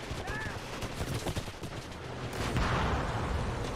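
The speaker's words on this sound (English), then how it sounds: "Panzer IV hit a mine." Explosion as a Panzer IV tank hits a mine in the WWII RTS Gates of Hell, a broad rumbling burst rising out of ongoing battle gunfire and artillery.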